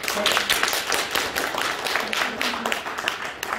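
An audience claps after a lecture on Green New Deal policy, a continuous patter of many hands at moderate volume with a voice faintly audible beneath it.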